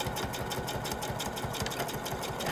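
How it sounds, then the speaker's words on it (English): A sewing machine back-stitches a steampunk-style snap-on bag, running at a fast, even stitching rhythm, loud and close and continuous through the whole stretch. "Back stitch that."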